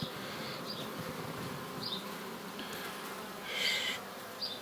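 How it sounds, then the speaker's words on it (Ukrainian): Steady, dense buzzing of many honey bees close by at an open hive, with a few louder individual bees passing near now and then. "Бджоли багато на диво."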